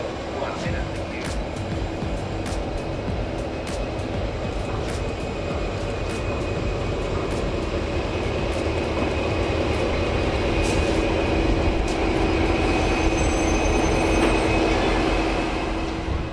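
Passenger train N457 pulls out of a regional Victorian station on its way to Albury/Wodonga, heard as a steady, continuous low rumble and rolling noise with faint high whine, moderately loud throughout with no clear voices.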